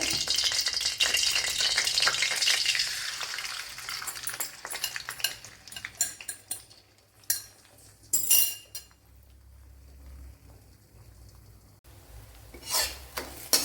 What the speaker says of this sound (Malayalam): ഇവിടെ മുട്ടയൊന്ന് സ്ക്രാമ്പിൾ ചെയ്തെടുക്കാം.